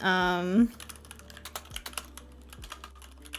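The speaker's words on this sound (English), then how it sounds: "Rapid typing." Rapid typing on a computer keyboard produces a quick, uneven patter of light clicks after a brief spoken sound at the start, close and moderately quiet.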